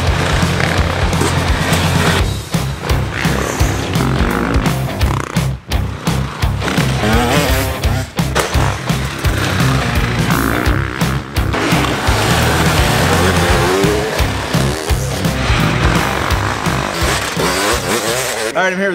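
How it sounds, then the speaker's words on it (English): KTM demo motorcycles ride a dirt track at an outdoor demo day, engines buzzing and revving continuously for the whole stretch, loud and close, with brief throttle dips and shifts and faint voices in the background. "World-renowned rider, Brian Boyer, out here testing out bikes"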